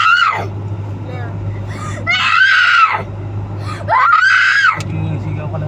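A young child screams loudly in three long, rising-and-falling wails aboard an LRT 1 train, with a steady low rumble of the moving carriage beneath.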